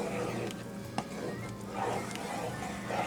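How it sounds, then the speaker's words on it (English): A spoon stirs Colby Jack cheese through chicken fajita pasta in a pan, quiet scraping strokes and soft clinks against the pan with a low sizzle underneath, close and fairly faint. "So we're going to stir this in and let the cheese melt."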